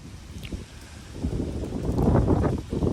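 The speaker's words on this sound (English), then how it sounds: "Hear that wind gust come up? Yeah, that wind gust can be nasty at times." A wind gust sweeps past an outdoor riverside spot, heard as a broad, rumbling roar that buffets the microphone and builds steadily in strength.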